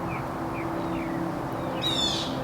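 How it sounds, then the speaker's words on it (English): Outdoor birds sing in short clear whistled notes, spaced out, then a quick bright trill near the end, fairly close, over a steady low background hum with no talking. "The birds are agreeing."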